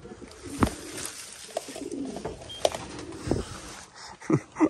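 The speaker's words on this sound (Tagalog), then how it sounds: "Isang ibon pa." Racing pigeons at the home loft after a 793 km race with a sea crossing give soft, close coos and short bursts of sound, mixed with faint clicks and scuffles and no talk.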